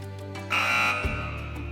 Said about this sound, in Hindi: चलें बजर एनेबल कर रहा हूँ।